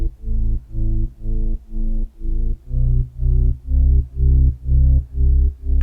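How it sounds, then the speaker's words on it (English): A thick reese bass synth plays alone in a steady rhythmic pattern of sustained, buzzing low notes, loud and dense with regular short gaps between phrases. "this type of bass, which is that thick reese bass, should harmonize really well with the melody"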